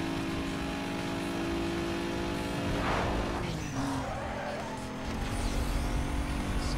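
A car engine drones continuously and loudly in the racing video game Need For Speed Most Wanted, with a brief tire screech midway and engine noise swelling again near the end, no speech.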